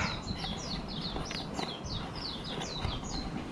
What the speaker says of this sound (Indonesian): ada burung pleci, enak banget kedengarannya tuh, enak ya burung pleci di sini